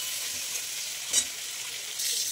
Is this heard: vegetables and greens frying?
yes